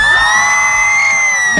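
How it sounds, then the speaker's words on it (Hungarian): A live radio morning-show crowd at a spring roadshow in Székesfehérvár screams and cheers loudly and continuously, a dense wall of shrill whoops and yells. "Micsoda sikítás!"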